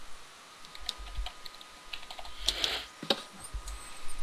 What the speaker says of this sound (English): I'll type it to you.